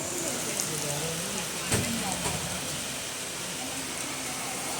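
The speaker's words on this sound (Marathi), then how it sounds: "जोरातच पाऊस आला" A dense, constant hiss of heavy rain pours down on a railway platform in Dadar, loud and unbroken, with a faint thump partway through.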